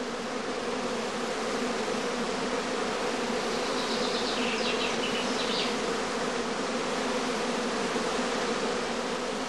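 A dense swarm of honey bees hums steadily and loudly throughout, a continuous droning buzz close by, with no voices.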